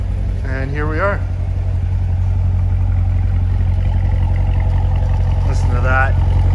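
A 2017 Chevrolet Corvette Grand Sport 2LT runs at a steady idle, its low, even engine rumble heard from behind the car while someone talks over it near the start and end.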